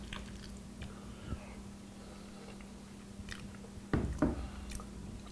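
Close chewing of a bite of potato and beer hash, soft crunches and squishes building toward the end, heard alone over a steady low hum.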